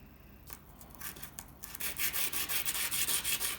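A thin handmade silver charm is sanded by hand, a few quiet scrapes, then a run of close, rhythmic rubbing strokes that grow steadier and louder.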